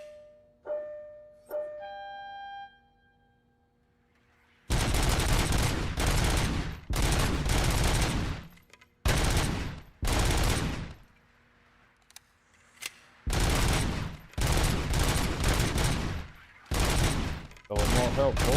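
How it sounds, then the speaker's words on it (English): Automatic gunfire from the video game Robocop Rogue City comes in long, loud sustained bursts separated by short pauses, after a few quieter electronic tones at the start. "And the good thing is I have auto fire."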